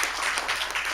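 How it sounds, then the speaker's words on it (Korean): A church congregation applauding the choir at a Sunday morning service, dense steady clapping from many hands throughout, moderately loud and even, without talk. "우리 한 번 더 격려의 박수 부탁드리겠습니다"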